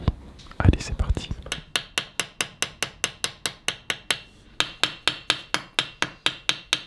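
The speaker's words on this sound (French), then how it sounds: "je vais prendre mon petit marteau et avec je vais taper légèrement sur le rivet" A small hammer lightly tapping the rivet of a handmade paring knife, a steady train of about twenty bright, delicate metallic taps at an even pace, preceded by brief handling and quiet speech at the start.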